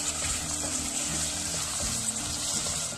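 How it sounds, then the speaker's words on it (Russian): Eggplant pieces frying in a pan, a dense steady sizzle and crackle with faint stirring scrapes, close and continuous, no voices. "Как вы слышите, наши баклажанчики уже начали активно обжариваться."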